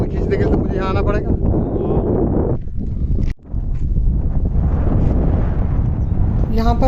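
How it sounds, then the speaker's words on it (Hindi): Strong wind blows near the Bhima river, buffeting the microphone with a loud, continuous roar that briefly cuts out midway, while people talk through it. "यहाँ पर हवा की आवाज़ बिल्कुल क्लियर सुनाई दे रही है"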